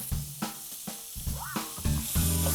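Halloumi sizzles in a griddle pan, a close, quiet hiss of frying with small clicks and shifts as the slices are moved, no voices.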